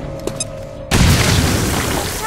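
A grenade goes off in XCOM: Chimera Squad, a sudden loud boom after a quiet moment that rolls on as a dense, roaring blast for over a second.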